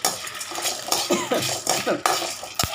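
Cumin seeds spluttering in hot oil in a home kitchen pan for millet sambar rice, a dense crackle of quick pops and sizzles with a few sharper metallic clinks, close and steady throughout.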